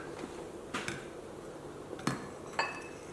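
Pyrex glass bowls clink against each other in a kitchen, giving three or four sharp, bright taps spaced apart over a low background hum, with no talking.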